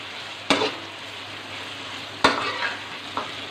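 Mutton sizzles in a karahi as ginger garlic paste is added, a soft, continuous frying hiss broken by three sharp stirring clatters of a spoon against the pan.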